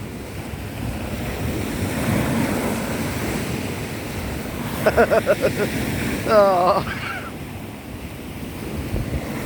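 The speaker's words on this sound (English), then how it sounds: "Wow, look at these waves coming in." Sea waves roll onto the shore at Paignton in a constant loud, rushing surf roar with buffeting wind noise, while a person speaks briefly and a dog whines.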